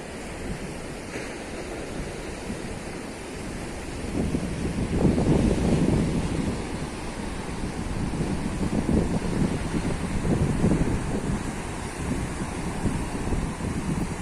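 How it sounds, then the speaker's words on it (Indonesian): Steady roar of high surf at a beach with strong wind buffeting the microphone, waves surging louder midway, continuous and close. "Ombake dhuwur-dhuwur lur."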